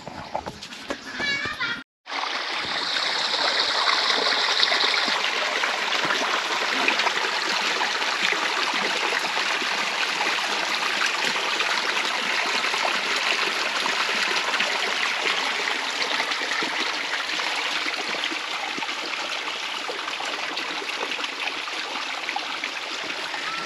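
Natural waterfall stream in the forest of Madhupur, Tangail, a steady rushing wash of flowing water that runs continuously and fairly close after a brief cut near the start, with faint children's voices in the background.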